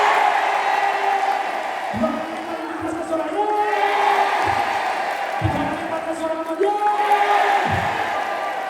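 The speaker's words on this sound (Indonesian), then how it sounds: "tepuk tangannya keras pakai suara" Loud crowd at a property sales seminar clapping and cheering together, sustained applause with shouted whoops and yells rising and falling throughout.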